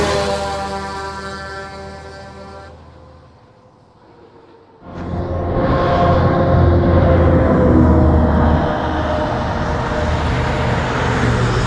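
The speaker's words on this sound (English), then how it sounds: "I love the sound of the highway of passing trucks." Highway traffic with passing trucks roaring by close to a roadside sleeping spot in Minnesota, a broad steady rumble that dips briefly to near quiet, then swells back loud and continuous as heavy vehicles go past.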